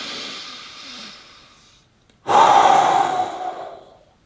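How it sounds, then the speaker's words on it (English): A person breathing forcefully, one long hissing breath fading away followed by a short pause and then a sudden, loud, forced exhale that rushes out close to the mic and tapers off. "Breathe forcefully."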